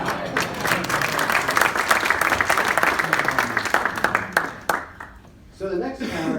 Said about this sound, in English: Let's applaud anyhow.